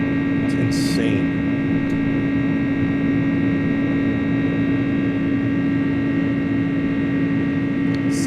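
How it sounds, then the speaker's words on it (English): Pratt & Whitney engines on an iniBuilds A300 airliner in Microsoft Flight Simulator drone with a steady, loud, unbroken hum and whine, holding constant throughout with no talk over it. "So much power behind those engines."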